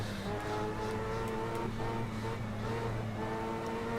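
A race car engine in a racing video game holds a steady buzzing drone with a brief throttle blip and rising revs, heard close and continuous without talking.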